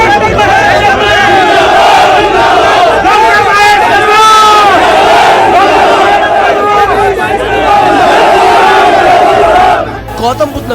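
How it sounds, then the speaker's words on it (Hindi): Supporters of BJP MP Mahesh Sharma crowd outside the DM office, a loud, dense mass of chanting and shouting voices that holds steady throughout and thins briefly near the end. "डीएम ऑफिस के सामने लगी ये भीड़ बीजेपी सांसद महेश शर्मा के समर्थकों की है"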